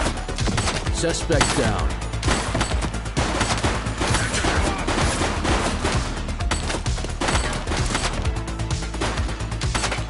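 Dense, rapid gunfire in a police shootout in the game The Precinct, sustained bursts of automatic shots crackling almost without pause throughout, with a brief voice calling out over the noise.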